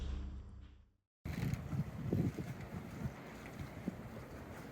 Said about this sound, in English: we've got about 12 to 13 knots of wind coming from the